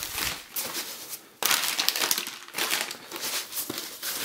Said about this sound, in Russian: Давайте мы сейчас распакуем и посмотрим, что у нас здесь внутри